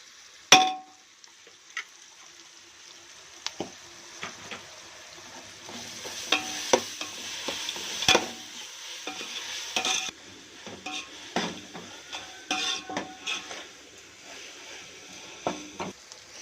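Onions with ginger paste sautéed in a pan for prawn biryani, with scattered spoon scrapes and sharp clinks against the metal over a quiet sizzle, close and intermittent throughout.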